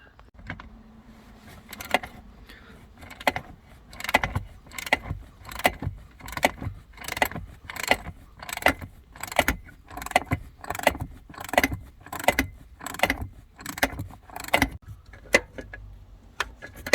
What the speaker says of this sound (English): It's a 12 millimeters, so it's gonna be easy to get it out with your ratchet.